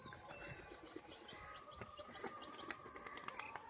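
Pigeons chirp and flutter outdoors in Murshidabad during a flight display, with bird calls, bursts of flapping wings and light clicking, moderately faint and with no talk.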